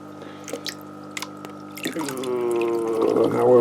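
Water drips and trickles off a pulled-out Fluval U1 aquarium filter loaded with muck: scattered close drips at first, then a steadier splashing trickle over a constant hum.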